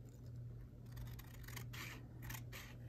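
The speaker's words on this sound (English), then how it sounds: "I have to trim more off." Scissors cut through a sheet of paper being trimmed for a budget binder, with several short snipping and rubbing strokes close by against a steady low hum, and no voices.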